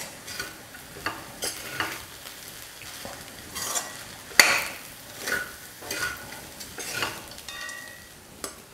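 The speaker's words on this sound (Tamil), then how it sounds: "இந்த மாங்காய் தொக்கு தேவையான அளவு சாதம் போட்டு கலந்துட்டேன்" A spoon works mango thokku into cooked rice in a pan, giving repeated scraping and stirring strokes with soft sticky sizzles and an occasional sharp clink of metal on the pan, with no talking.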